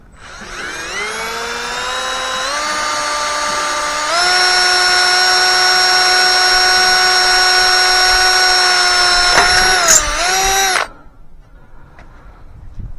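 A power drill bores into recycled aluminum for a truck bed side wall frame, its loud whining motor climbing in pitch, holding steady for several seconds, then winding down and stopping, leaving quiet room noise.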